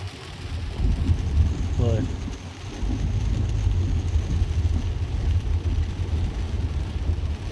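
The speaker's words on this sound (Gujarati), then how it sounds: "વરસાદ એક ધારો કન્ટિન્યુ ચાલુ." Heavy, continuous rain pours down over a village in Jambuda, Savarkundla taluka, a dense, steady roar with low rumbling throughout and a brief voice near the start.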